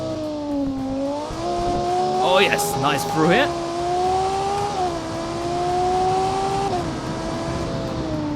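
A 2010 track coupe built in Automation races in BeamNG, its engine droning steadily and rising and dipping in pitch as it shifts and accelerates, with a brief burst of tire noise, while someone talks over it.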